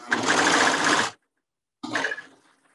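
A serger stitching the seam of a boy's dress shirt, a loud rapid whirring run of about a second, a short pause, then a second shorter burst that winds down, with no talking.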